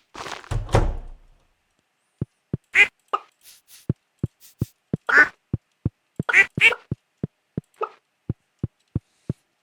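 Ducks quack on a Stardew Valley farm in winter: several short quacks scattered among a steady run of soft, rhythmic thumps, with no talking.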